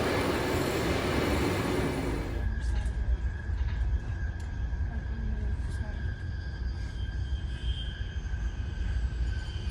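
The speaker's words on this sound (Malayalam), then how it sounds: "അപ്പോൾ ഈ വന്ന ട്രെയിനിലാണ് നമ്മൾ പോകുന്നത് കേട്ടോ." A Swiss train pulls into a station near Zurich, bound toward Kilchberg: a loud, rumbling rush of wheels and carriages with faint metallic squeals and clicks, heard close on the platform while people talk over it.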